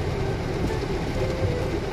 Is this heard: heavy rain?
yes